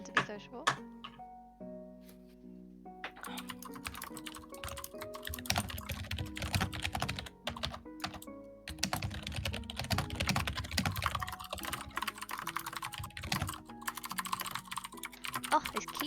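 Computer keyboard typing in irregular bursts of clicks, with long tonal background sounds and quieter gaps, moderately close; speech also seems to occur.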